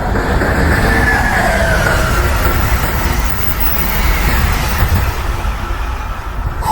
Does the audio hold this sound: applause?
no